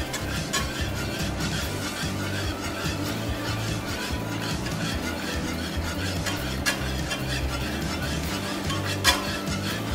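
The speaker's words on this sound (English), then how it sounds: "Just want to keep adding your butter and keep whisking, making sure that it all emulsifies evenly." A whisk works steadily through lemon beurre blanc as butter is added to emulsify the sauce, giving a continuous close scraping and stirring against the pan with faint sizzling underneath.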